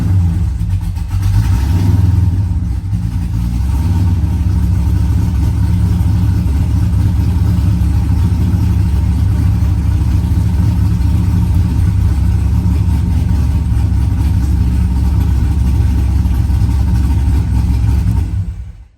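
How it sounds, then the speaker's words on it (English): A Corvette engine is cranked and settles into a steady, loud idle, a deep continuous rumble that holds unchanged for over fifteen seconds before cutting off abruptly. "and then you can crank the car."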